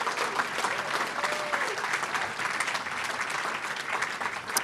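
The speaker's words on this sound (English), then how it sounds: "Let's give a big round of applause." Sustained audience applause at an awards gala, a dense steady wash of clapping from a large crowd, fairly loud and even throughout with no talking over it.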